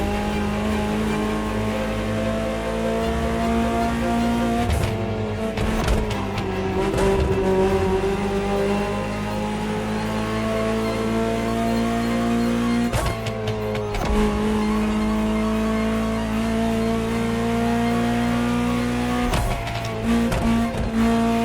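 A Ferrari supercar from the 1984 Geneva Motor Show, driven in the video game The Crew Motorfest, holds a loud, sustained engine drone, with several sharp breaks where the pitch drops and climbs again as it shifts gears.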